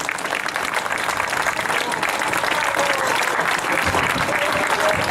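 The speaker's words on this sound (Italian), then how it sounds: "che si merita tutti questi applausi" Audience applause for Mario Sandrini at an evening closing gathering in Este, dense and sustained throughout, steady and loud with a broad wash of many hands clapping.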